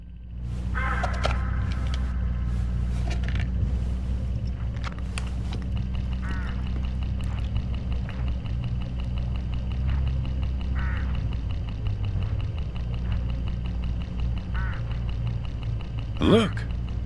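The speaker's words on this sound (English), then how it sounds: "Look, hooded crows all along this road." Hooded crows along a road in the mystery game Hitchhiker caw and quack-like squawk in scattered bursts over a steady low engine hum of a moving vehicle, with a louder call near the end.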